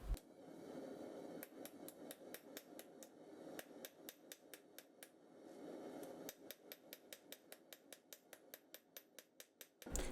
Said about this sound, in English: And so here I'm pretty much done forging it to shape.